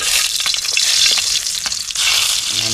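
Garlic sautéing in a hot pan, a steady bright sizzle with occasional stirring scrapes and small pops, loud and close with no talking.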